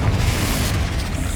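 Blasting spell explosion in Hogwarts Legacy, a dense, loud booming burst that fills the moment with a continuous low rumble and crackle.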